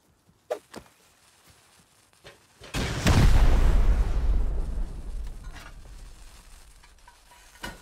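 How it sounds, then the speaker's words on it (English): A thrown satchel charge in the survival game Rust: a few faint clicks and thuds, then a sudden loud hissing, crackling fuse burst that gradually fades over several seconds. "I can just throw a satchel."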